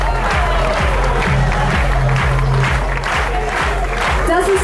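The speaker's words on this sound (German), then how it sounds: "Ein ganz herzlichen Applaus" Applause and crowd noise at a basketball season-opening team introduction, greeting the third goalkeeper. Dense, loud clapping runs steadily throughout, with cheering voices mixed in and a voice talking over the crowd.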